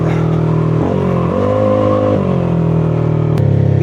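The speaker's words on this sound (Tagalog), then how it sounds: "Kita nyo yun, gigil na gigil yung makina." A car engine revs hard and loud, holding high revs with a few rises and dips in pitch, close up and steady with no talking.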